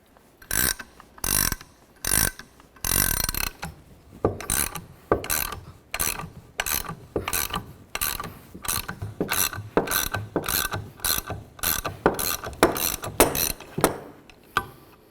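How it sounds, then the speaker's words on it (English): A 1-inch wrench ratchets a pulley puller counterclockwise to draw the pulley off the power steering pump of a 1994-2002 Dodge Ram 2500, giving loud close repeated clicking strokes in a steady rhythm. "we'll use a 1-inch wrench to turn this counterclockwise. As I'm turning this counterclockwise, it will be drawing the pump pulley away from the pump"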